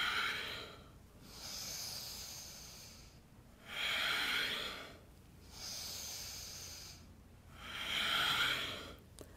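Slow, deep breaths during a yoga flow, with long airy inhales and exhales rising and falling in a steady rhythm, close and alone.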